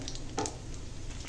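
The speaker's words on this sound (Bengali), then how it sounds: "ওই তেলেই দিয়ে দেবো ফোড়ন। এখানে আছে শুকনো লঙ্কা, তেজপাতা, পাঁচফোড়ন দিয়ে দিলাম।" Dried chilli, bay leaf and panch phoron spit and crackle briefly in hot oil left from frying a rohu fish head, one short close burst of sizzling over a quiet steady hiss.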